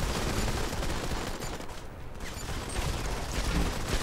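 Rapid gunfire bursts from the mobile shooter Modern Combat 5 in a squad match on a construction-site map, dense and continuous over a steady loud background, with no talk.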